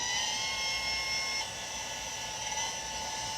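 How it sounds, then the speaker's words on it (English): An old Type 2 hard drive in a Compaq Portable 3 spins up with a steady high whine and tonal hum, the pitch dropping slightly partway through, close and alone without talk. "Hard drive spin."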